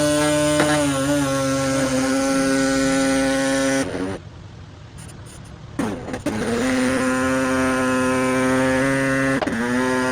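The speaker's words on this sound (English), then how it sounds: "this thing moves so fast it melts the plastic of my bumper onto the saw blades" A power saw cuts through the plastic bumper of a Toyota Tacoma, making a loud, close, steady high whine that breaks off briefly midway and then resumes at full strength.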